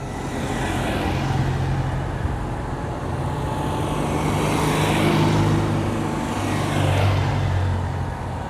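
A convoy of Citroën 2CV cars at a 2CV world meeting in Samobor, Croatia rolls past one after another, their engines swelling and fading in repeated passes over a continuous road rumble, with no voices.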